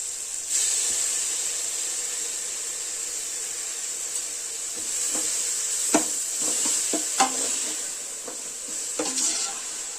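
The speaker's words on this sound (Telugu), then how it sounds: "దీనిలోనే కొంచెం పుదీనా, కొత్తిమీర కడిగి వేయించుకున్నాం" Mint and coriander leaves fry in a pan for fish curry, giving a steady sizzle and hiss with a few sharp clinks and stirring scrapes of a utensil against the pan.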